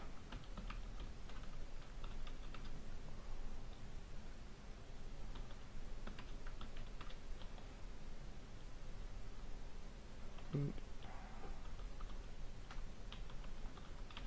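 Quiet typing on a computer keyboard while writing MATLAB code, soft clustered key clicks in irregular bursts over faint background hiss, close but low in level.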